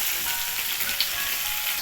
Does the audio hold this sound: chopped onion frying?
yes